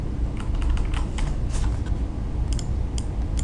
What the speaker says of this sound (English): let's type in the color